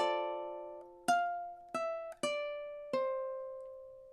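A ukulele plays a slow barred passage from The Star Spangled Banner, five plucked chords ringing out one after another with clear sustained decay, close and alone with no talk.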